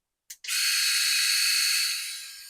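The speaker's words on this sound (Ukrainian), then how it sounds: "Натисну на неї для того, щоб увімкнути бритву." An Enchen Blackstone Plus cordless electric shaver switches on with a brief click, then a steady, close, high-pitched buzzing hum that runs on alone.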